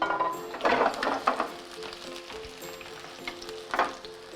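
Chili and garlic hit a hot pan and sizzle in one corner, a close, steady fry with brief stirring swells and light utensil scrapes, with no speech.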